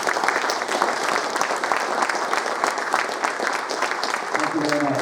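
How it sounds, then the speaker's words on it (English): Audience applause fills a gaming expo hall during an interview, a steady, dense round of clapping held for the full stretch with no pause. "please give a round of applause for David Pleasance"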